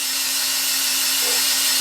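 A power drill spins steadily to prime an engine's oil system, giving a continuous high whirring drone with a faint low hum beneath, close and uninterrupted.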